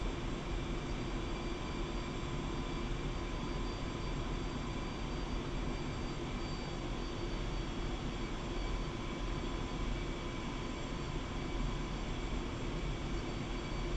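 A Su-25T jet taxiing in the DCS World flight simulator, a steady, unbroken engine roar and whine holding at an even level throughout, with no talk over it.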